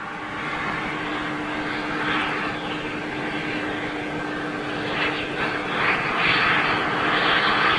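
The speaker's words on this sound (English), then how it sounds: "Nice APU noise." A constant whining hum with a droning mechanical roar, steady and fairly loud, from a parked airliner's auxiliary power unit running at Madrid Barajas airport.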